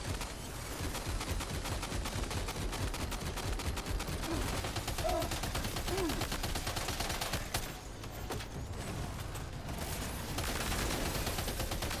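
Heavy machine gun fire from a sentry unit in Death Stranding 2, a sustained, dense rattle of rapid shots running nearly unbroken for the whole stretch, loud and close with only a brief dip midway.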